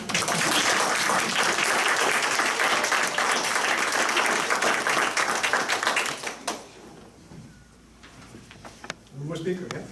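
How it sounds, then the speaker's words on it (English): Audience applause fills a public meeting on a fluoride vote, dense clapping for about six seconds before thinning into scattered claps, with brief voices near the end. "Sure, you can clap now."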